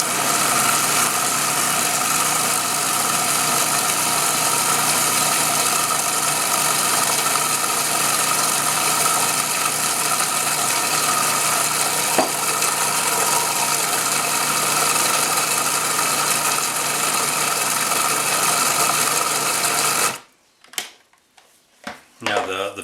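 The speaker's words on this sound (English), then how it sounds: "while the food processor is running, I will add a stream of olive oil so it emulsifies" A food processor whirs continuously while blending taramosalata of carp roe, lemon juice and olive oil, a loud steady motor drone that stops abruptly near the end, followed by a few clunks and a voice speaking.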